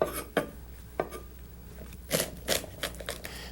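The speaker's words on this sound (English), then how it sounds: "let's start by chopping up our choy sum here into nice little 1-inch lengths" A knife chopping fresh choy sum stalks and leaves into short pieces on a board, a few crisp, irregular thuds and clacks close up with short pauses between, no talking.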